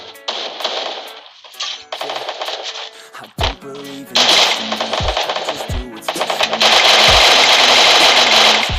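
Gunfire from a shooter video game in Rampage Uprising mode: loud, rapid automatic bursts with sharp single shots and thumps in between, dense and continuous near the end.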